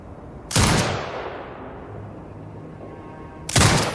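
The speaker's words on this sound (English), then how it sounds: "Exit binocular mode and command the turret to fire." Two heavy booming turret shots in the video game Sniper Ghost Warrior Contracts 2, each a loud blast with a long rumbling decay, fired about three seconds apart.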